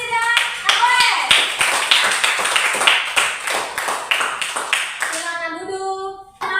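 Hands clapping in a classroom to honour two students, a brisk, fairly close patter of many claps that tapers off near the end, with voices heard faintly underneath.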